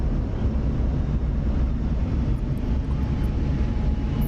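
A steady, low-heavy jet engine drone from an F-16 Viper during a carrier landing in the DCS flight simulator, continuous and fairly quiet with no voices.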